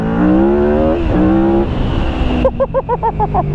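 A Yamaha V-Max motorcycle, a 200 hp power cruiser, holds a loud, steady engine roar whose pitch climbs and dips through a couple of revs, then breaks into choppy, pulsing bursts near the end.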